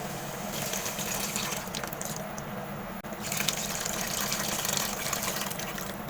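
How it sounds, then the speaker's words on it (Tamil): Tamarind water pouring and splashing steadily into a pan for garlic kuzhambu, a continuous gushing flow with a brief pause midway. "இப்போ புளி தண்ணி ஊற்றியாச்சு"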